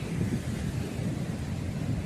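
Strong wind gusts buffet the microphone at Stanwell Park beach in New South Wales, a steady low rumbling roar with no voices heard.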